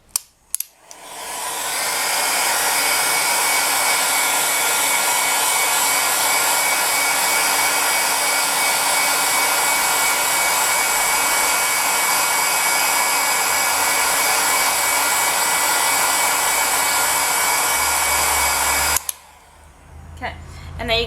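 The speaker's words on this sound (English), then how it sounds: "a heat gun on the lowest heat setting to dry it" A heat gun on highest wind speed and lowest heat, drying paint on polymer clay, roars steadily with a loud, breathy blowing noise for a long stretch, then cuts off abruptly near the end.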